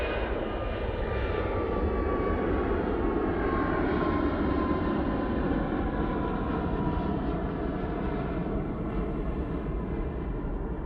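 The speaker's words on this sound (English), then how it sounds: "Sorry, just missed the Etihad coming in." Etihad airliner coming in to land at Manchester Airport, a continuous loud engine roar with a faint whining tone that slowly shifts in pitch, steady throughout with no talking.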